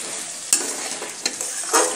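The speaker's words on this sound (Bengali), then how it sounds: "জল দিয়ে আবার একটু ভালো করে কষিয়ে নেব।" Pointed gourd with spices and a splash of water is stir-fried in a pan, a loud bright continuous sizzle with three distinct spatula scrapes spaced through it, close by and with no voices.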